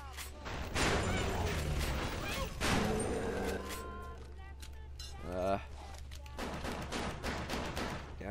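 Gunfire in the game Bioshock Remastered, with armor-piercing rounds followed by regular bullets: loud, sharp bursts of shots at the start and middle among mechanical clinks, over a steady low game hum, with frantic speech present.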